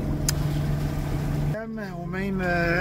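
Motorboat engine held at the same steady revs, a continuous close drone under wind and water noise, with someone talking over it in the second half.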